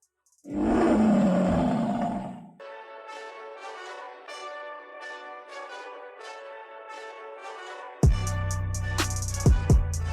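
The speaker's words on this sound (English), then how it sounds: "Here comes the roar." A big-cat roar sound effect bursts in loud for about two seconds, then gives way to a sustained musical tone and a later punchy electronic hit, with no talking.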